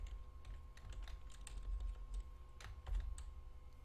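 Keys on a computer keyboard are tapped in quick irregular bursts, close by and quiet, over a low steady background hum.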